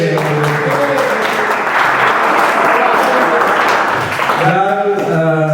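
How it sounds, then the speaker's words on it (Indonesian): Loud applause from a stand-up comedy audience fills the room, dense clapping with voices talking over it at the start and again at the end. "Tepuk tangan untuk JP"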